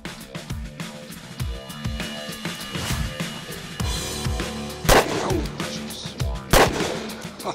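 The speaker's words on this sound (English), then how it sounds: "So I'm going to shoot full house .357 loads" Full-power .357 Magnum rounds fired from a lightweight Smith & Wesson snub-nose revolver, a series of sharp, loud cracks spaced irregularly over several seconds, with some shots louder and closer-sounding than others.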